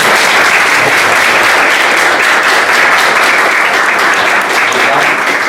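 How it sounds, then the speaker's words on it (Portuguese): Sustained applause from an audience at the close of a talk on how the human body works, dense steady clapping filling the room at full volume without pause. "eu creio que merece uma salva de palmas"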